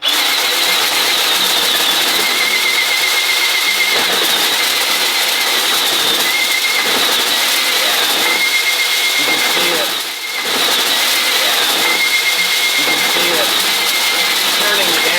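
A power drill spins cleaning rods inside a wood stove flue pipe, giving a loud, steady motorized whine that holds for the whole stretch with brief dips and surges in pitch.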